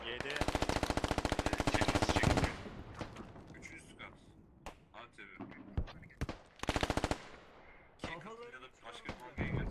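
Gunfire in the military shooter game Squad: rapid bursts of automatic fire crack close by, followed by scattered single shots and another long burst, with players talking in between.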